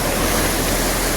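The Mirim stream near Bhujung village in Nepal, a dense, even rush of flowing water, loud and close, with no break over a brief stretch.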